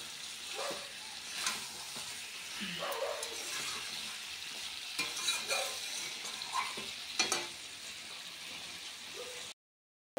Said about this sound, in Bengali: মাংসটার মধ্যে ভালো মতন কষানো হয়ে যাবে